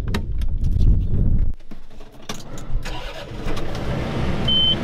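A cab tractor's engine cranks and catches before mowing overgrown ground, a loud rumble that cuts off briefly, then settles into a steady mid-pitched idle with a few clicks and knocks nearby.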